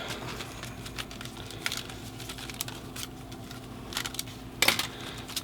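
Plastic wrap is cut and pulled off a Lorex security camera cable, giving scattered crinkling snips and rustles close by, with a sharper burst of crackling near the end and no talk.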